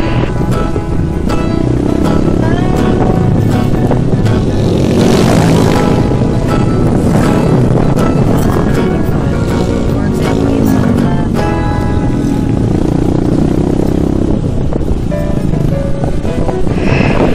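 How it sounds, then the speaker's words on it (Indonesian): Wind roars past a moving motorcycle on a road through hilly tea plantations, a loud rushing blast that rises and falls with the engine beneath it. A voice talks over it. "Dan semakin kencang lajunya motor, angin pun semakin kencang."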